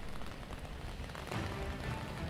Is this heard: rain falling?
yes